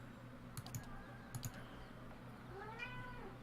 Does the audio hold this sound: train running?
no